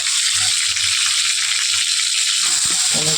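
Small rohu-type fish fry loudly in hot oil as they are flipped in a pan, a dense continuous crackling sizzle close up with a few soft knocks of the turner near the end.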